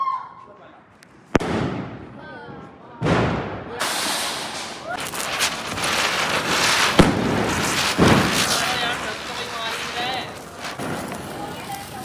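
Diwali firecrackers and fireworks go off nearby: sharp cracking bangs at about 1.3, 3 and 4 seconds, then a dense, continuous crackling barrage with scattered pops, while people talk and shout over the noise.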